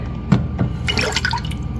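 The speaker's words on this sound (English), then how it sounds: "So add the tamarind paste water or the raw tamarind" Diluted tamarind paste water is poured into a pot of mint rasam, a brief close splash and trickle with a few drips.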